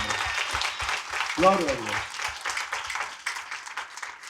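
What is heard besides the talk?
congregation applause in church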